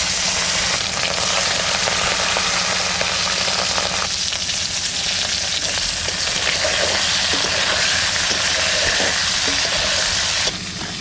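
Prawns sizzle steadily in hot oil for a Bengali prawn-head fry, a loud, continuous crackling hiss with a low hum underneath, dipping briefly midway and cutting off at the end.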